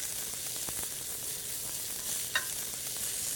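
Snow peas and zucchini sautéing with garlic in a pan, a soft steady sizzle with a light stir and one brief clink, no talking.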